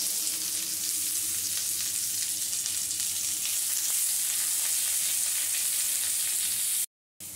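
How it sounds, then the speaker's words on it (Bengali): Chopped onions frying in hot oil with a bay leaf for a mango-leaf fish curry, giving a steady, close, loud sizzle throughout, with a brief dropout near the end. "এবারে এর মধ্যে আমি পেঁয়াজ দিয়ে দিচ্ছি কেটে রাখা দুটো পেঁয়াজ"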